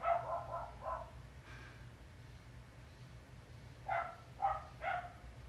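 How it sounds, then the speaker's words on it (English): Several neighborhood dogs barking excitedly from a distance, with a cluster of yips at the start, a quiet gap, then three more sharp barks near the end over a low steady hum. "a live session with me is not complete without some excited barking from my neighbor's dogs"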